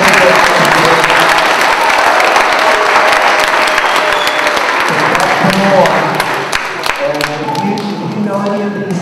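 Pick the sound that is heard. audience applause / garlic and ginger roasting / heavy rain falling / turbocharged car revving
audience applause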